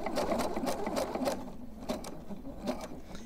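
A sewing machine stitches scrap fabric wrapped around rope for a homemade trivet, running in quick rhythmic bursts of needle clatter with short pauses, close and steady throughout, with no voices.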